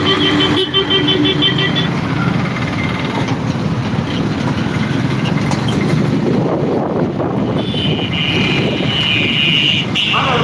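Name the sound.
road traffic heard while riding a motorbike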